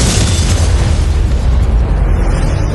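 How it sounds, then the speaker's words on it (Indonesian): A big explosion in an Indonesian action film, a dense, roaring blast that holds loud and steady throughout with heavy low rumble and no voices. "ledakan."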